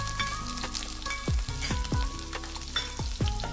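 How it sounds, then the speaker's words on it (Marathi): Garlic cloves fry in hot oil with mustard seeds and cumin for a Maharashtrian kurdai bhaji, a loud, close crackling sizzle broken by popping bursts and brief spatters. "लसूण हे छान तळून घेणार आहे।"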